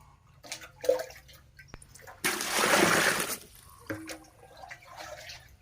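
Freshly dug yam bean roots being washed in water, with splashing and rinsing loudest in a sustained burst midway, softer drips and handling around it.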